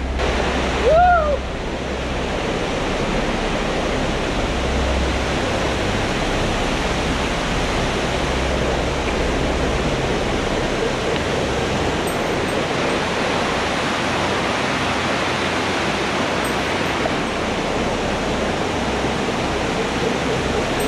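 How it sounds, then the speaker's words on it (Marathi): The Savatkada waterfall in Konkan roars as a loud, unbroken broadband rush of falling water, close and overwhelming, staying steady throughout with no voices above it. "धबधब्याचा आवाज खूप मोठा यायला लागला"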